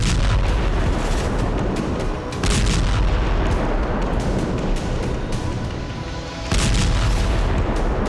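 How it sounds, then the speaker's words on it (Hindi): Heavy blasts from Russian FAB-3000 bombs striking Vovchansk in Ukraine, a dense roaring rumble with several booming surges, loud and continuous with no voices. "रूस ने दूसरे दिन वोल्चांस्क पर फैब 3000 बम से हमला किया।"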